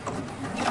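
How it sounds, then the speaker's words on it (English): A sewing machine runs steadily, stitching binding along a folded fabric edge with a continuous close mechanical whir, no voice over it. "and then you just sew"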